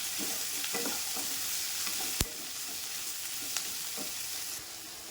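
Onions and dried red chillies sauté in hot oil, giving a constant close hiss with soft stirring scrapes and a sharp clack partway through, and no one talking.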